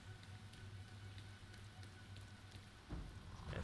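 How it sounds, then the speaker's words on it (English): Steady rain patters across a surface in the martial-arts video game Sifu, a soft, even hiss of drops with a slightly louder swell near the end and no voices. "This rain effect and the game look, I like the art direction."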